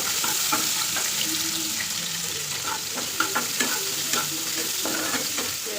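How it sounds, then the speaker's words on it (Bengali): Fish sizzles in a pan while a utensil scrapes and clatters, giving a steady crackling fry with a busy run of close taps and stirs throughout. "দেখো মাছের ভাজাও করছি দুটো চুলাতে তাড়াতাড়ি করে"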